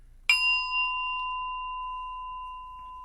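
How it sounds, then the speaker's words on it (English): A closing bell at the end of a meditation session is struck once, giving a clear, bright ding that rings on with a long, smooth, slowly fading sustain in an otherwise quiet room. "Closing bell."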